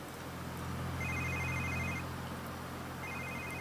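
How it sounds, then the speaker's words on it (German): A telephone rings in The Sims 3 video game, with two repeated electronic ring bursts over steady background game music. "Oh Gott, dieses scheiß Telefon."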